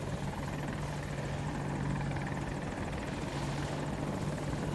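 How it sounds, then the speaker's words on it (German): A helicopter hovers overhead on the Hourglass map in a Battlefield match, its rotor a steady, loud, continuous drone with no talk over it. "Heli über uns."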